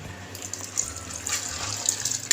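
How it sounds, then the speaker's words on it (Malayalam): Water pouring and splashing as boiled rice is drained for a beef dum biryani, a steady close gush with bursts of louder splashing throughout. "അപ്പം ഇനി ചോറ് ഊറ്റാനായിട്ട് കേട്ടോ. ചോറ് ഇനി ഊറ്റാണ് ഇതിലേക്ക് ഇടട്ടെ."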